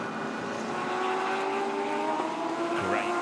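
Onboard a Team Go Jigen Nissan GT-R Nismo GT3 race car during qualifying at Chang, a high engine whine holds steady with shifting pitch, heard fairly faint and continuous.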